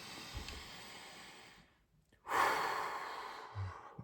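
A slow, deep breath taken in calm silence, with a long breathy rush that swells and fades, followed by a short low exhale, close and soft.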